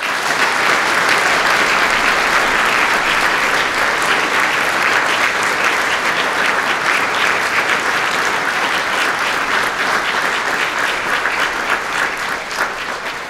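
An audience applauding the class of 2024 at a Christian school graduation ceremony, loud, dense, sustained clapping from a large crowd that holds steady for over ten seconds before easing slightly.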